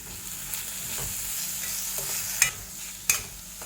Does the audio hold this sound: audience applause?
no